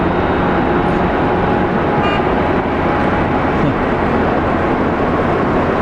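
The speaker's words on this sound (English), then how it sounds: "No, it's the Qatar Dreamliner." A Qatar Airways Boeing Dreamliner jet at snowy Manchester Airport gives a steady, loud broadband roar of engine and air noise that holds evenly throughout, with no talking.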